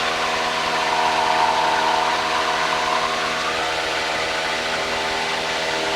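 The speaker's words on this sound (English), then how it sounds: "we also get quite a lot of kind of exhaust noise, and vibration from that" Steady, loud drone of a light aircraft engine in a Decathlon in flight, heard from inside the cabin with continuous exhaust roar and a rough, vibrating hum, unbroken and without talk.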